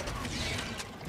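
Weapon magazine reload in Helldivers 2 during a bug fight, a quick burst of mechanical clicks and ratcheting metal against dense, loud game noise.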